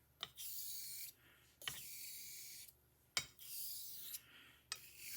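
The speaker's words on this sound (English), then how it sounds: "Gonna do some alternating strokes to see how I feel about the way in which slurry is moving over the edge." Alternating strokes of a blade honed on a whetstone with slurry, four long wet rasping passes with brief pauses and small clicks between them, close and alone.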